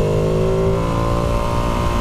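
A Ducati Panigale V2 sport motorcycle ridden on wet roads gives a steady, close engine drone with a dense, continuous roar and no talking.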